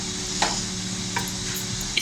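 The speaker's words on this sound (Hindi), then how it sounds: "इसको मैं अच्छी तरह मिक्स कर लेती हूँ।" Raita of yogurt with half a teaspoon each of cumin and salt being mixed, giving a soft, steady stirring scrape with a few light spoon clinks against the bowl, close and alone.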